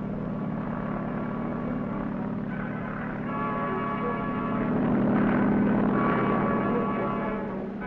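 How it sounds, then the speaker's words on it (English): A 1962 U.S. Navy carrier helicopter of the 2nd Fleet drones in a steady, even rotor and engine rumble that swells slightly midway, with no voices. "Carrier helicopters also play an important role on the sub-hunting team."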